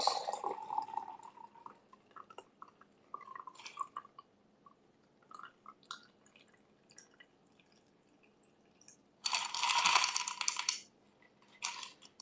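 A lemon thyme gimlet is poured out of a cocktail shaker in one short burst of splashing liquid with faint clinks, set against a mostly quiet room.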